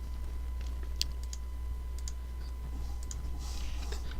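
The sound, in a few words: typing on a computer keyboard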